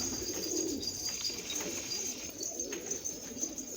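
Pigeons from a hobbyist's flying flock coo in low, rolling calls that overlap continuously at close range, over a steady background hiss.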